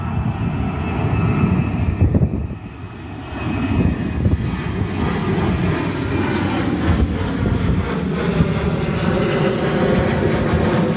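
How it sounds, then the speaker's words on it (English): An airplane roars during takeoff near Liberty Station, San Diego, a loud, sustained engine rumble with a rising high whine that fills the whole stretch without pause. "But now there's a plane taking off"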